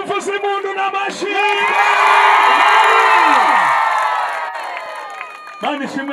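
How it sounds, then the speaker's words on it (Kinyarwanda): A crowd ululating with high, sustained trilling cries and clapping at a church gathering, rising loud and full for a few seconds, then fading, with brief shouts and voices before and after. "ngaho rimwe kabiri tuvuze impundu n'amashyi"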